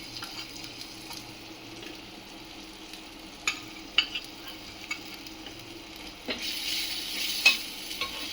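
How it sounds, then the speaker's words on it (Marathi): Cumin seeds frying in oil on a hot tawa, a soft steady sizzle with occasional sharper pops and stirring scrapes that swell louder near the end. "जिरे चांगले तळतळून द्यायचे."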